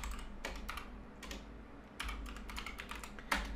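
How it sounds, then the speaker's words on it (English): Rapid keystrokes clatter on a computer keyboard, a steady run of close, crisp clicks with short pauses between bursts and a low background hum underneath. "So all I did was type in Google Workspace"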